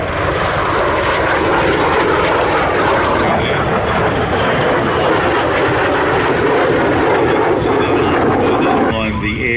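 A MiG-17F jet, powered by a Klimov VK1F centrifugal-flow engine, makes a low pass with its undercarriage down at an air display, its loud, steady roar filling the whole span without a break.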